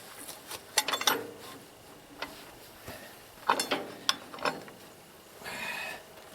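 A wrench tightens a stiff threaded fastener with partly stripped threads outdoors, making irregular metallic clicks, ratchet-like ticks and short scraping bursts, close by and uneven in rhythm.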